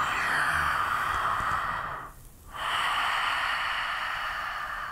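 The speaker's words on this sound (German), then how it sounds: "du kannst jetzt durch den Mund ein- und ausatmen" A pregnant woman breathing in and out through the mouth during a yoga session, a soft airy rush that swells, dips into a brief pause, then returns steady and close.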